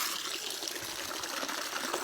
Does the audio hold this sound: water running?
yes